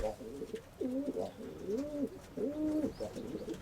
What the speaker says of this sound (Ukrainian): О, це Миколина голубка сіра